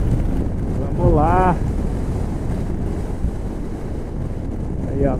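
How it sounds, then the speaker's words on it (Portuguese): Strong wind buffets the microphone while travelling on a long road in windy Chilean Patagonia, a loud continuous low roar throughout, with a brief voice-like tonal sound partway and another at the end. "Acho que eu nunca andei por tanto tempo com tanto vento assim."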